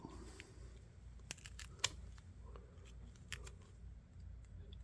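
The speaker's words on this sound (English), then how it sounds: "let me just cut through this tape here" A knife slicing through packing tape on a well-wrapped package, faint scattered snicks and a crisp cut near the middle over quiet room hiss.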